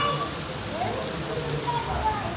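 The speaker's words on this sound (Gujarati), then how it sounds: "વરસાદ શરૂ થઈ ગયો" Rain patters steadily on surfaces in Pune, a dense continuous hiss with faint voices talking in the background.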